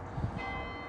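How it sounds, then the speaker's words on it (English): Church bells ring with a sustained, shimmering metallic tone, heard briefly at moderate distance over a low background rumble. "can you hear the church bells ringing in the background?"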